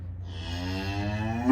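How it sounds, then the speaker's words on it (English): A panda cow on a farm lets out a loud, long, sustained moo, close and alone, with no talk over it. "Wow, let's count the moos"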